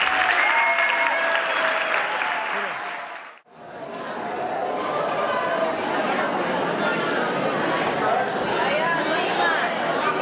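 Loud applause and cheering at a school end-of-year show, clapping that fades briefly to near silence, then swells again into a sustained ovation with voices mixed in.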